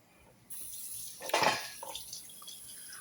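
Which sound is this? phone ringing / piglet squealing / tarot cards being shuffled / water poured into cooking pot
water poured into cooking pot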